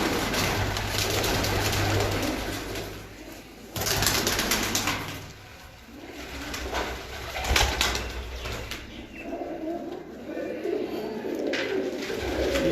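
Breeder pairs of fancy pigeons coo in a loft, a steady low cooing repeating throughout with occasional wing flaps and bursts of nearby background noise.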